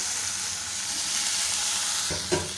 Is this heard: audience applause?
no